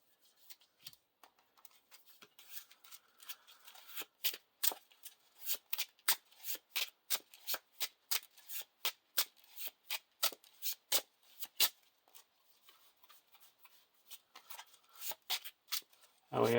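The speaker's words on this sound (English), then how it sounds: "And we have Anonymous Fate shuffled into the deck." A deck of playing cards for a Lord of the Rings card game is shuffled repeatedly, with crisp riffling bursts in a quick, irregular rhythm that grow denser midway, close and alone.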